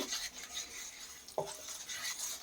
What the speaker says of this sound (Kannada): ಇದನ್ನು ಮೀಡಿಯಮ್ ಉರಿಲೇ ಚೆನ್ನಾಗಿ ಫ್ರೈ ಮಾಡ್ಕೋಬೇಕು